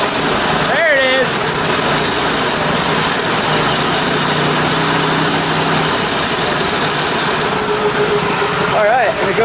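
A small go-kart engine, just fitted with a throttle cable, idles loudly and steadily close by, with brief revving rises near the start and end before settling back to a constant buzzing drone.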